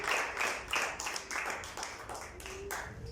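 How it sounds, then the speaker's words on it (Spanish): A church congregation claps during a prayer service in an irregular, fairly steady patter of overlapping hand claps, moderately near and of even loudness, with a few louder individual claps standing out. "Dale un aplauso a Dios"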